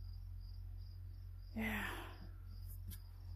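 Crickets chirp faintly and steadily in an evening backyard garden, a thin continuous trill under low background hum, with a brief nearby voice speaking once midway.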